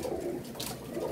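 Domestic pigeons, golden and Rampuri breeds kept by a fancier, coo softly in a low murmuring call close by, steady and quiet throughout with no speech.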